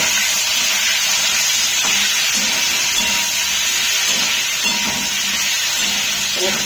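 Chilies sizzling in a pan with black cumin seeds, salt and cauliflower, a dense continuous hiss filling the background with faint stirring taps.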